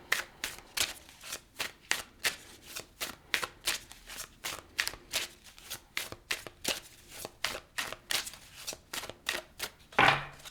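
Tarot cards being shuffled in a steady riffling rhythm, about two dozen crisp papery bursts close to the microphone, with a final louder shuffle at the end and no talk.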